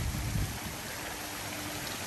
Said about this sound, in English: And you get this beautiful waterfall feature right here.